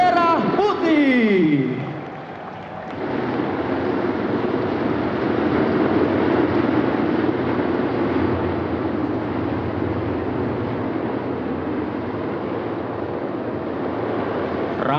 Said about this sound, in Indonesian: Mari kita sambut Nusantara Flight dengan Giant Flight Formation datang dari sebelah kiri podium